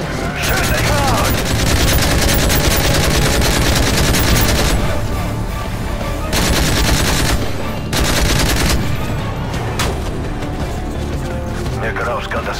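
Dense, continuous gunfire from the Call of Duty Modern Warfare 3 campaign, rapid automatic bursts layered with booms and loud game music, with characters talking over the battle.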